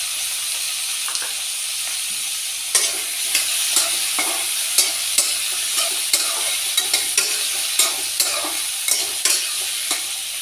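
Potatoes hit a pan of frying onions with a steady loud sizzle, punctuated by regular clanks and scrapes of a spoon stirring every half second or so, close up with no talking.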